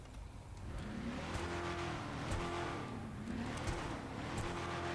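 The Declasse Yosemite Rancher truck in GTA Online revs its engine, rising and falling in repeated swells over a steady low rumble, close and moderately loud.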